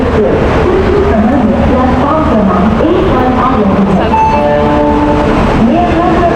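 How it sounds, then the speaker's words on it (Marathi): A train arrives at a station, rumbling loudly close by amid a busy platform crowd, with overlapping voices and a horn-like tone sounding near the end. "ट्रेन आलेली आमची."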